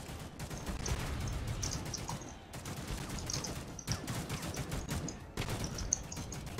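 Video game gunfire crackles in rapid automatic bursts, separated by short gaps, moderately loud over a busy background.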